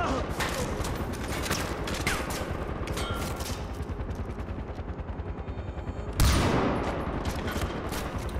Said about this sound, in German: Ich weiß gar nicht, wie oft ich da hochballern soll mit der Sniper